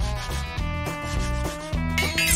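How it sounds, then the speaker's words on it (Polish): Fingernails scraped with a nail file, rhythmic back-and-forth rasping strokes, close and steady over a tonal musical backdrop, with no talking. "znów piłuje paznokcie?"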